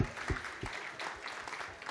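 Indoor festival audience at La Belle Electrique applauds for a sponsor, a short burst of moderately distant, steady clapping.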